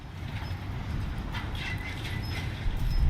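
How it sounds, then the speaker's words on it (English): A monorail in the video game Death Stranding 2 passes by with a low, steady rumbling roll that builds slightly, with faint high tones above it. "There goes another monorail."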